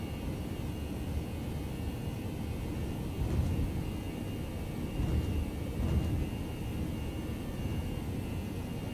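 Steady broadband roar of airliner jet engines at takeoff power on a Toliss A321 in X-Plane 11, a constant moderate rumble with slight swells and no voices.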